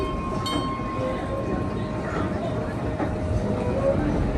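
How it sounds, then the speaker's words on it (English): The Calico Mine Train ride at Knott's Berry Farm, Buena Park, arrives, rumbling steadily nearby with a constant mechanical drone and faint squeals, while people murmur in the background throughout. "and here comes the train now."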